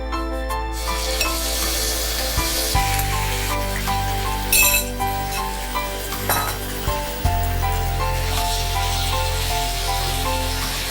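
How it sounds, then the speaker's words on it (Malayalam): Cooked beef frying in hot oil for a Kerala beef coconut roast: a continuous loud sizzle in a pan, broken by a few spoon clinks and stirring scrapes. "ഇനി ആ ബീഫും കൂടി അല്പനേരം ഒന്ന് മൂപ്പിക്കുക."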